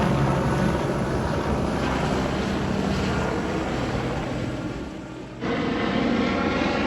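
Search and rescue helicopter or aircraft flying overhead along the Guadalupe River during a Texas Hill Country flash flood, a steady droning engine that dips briefly, then returns strongly, continuous and fairly close.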